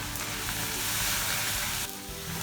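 Onion and tomato sautéing in a pan, a loud steady sizzle and hiss up close that briefly softens partway through, then continues evenly.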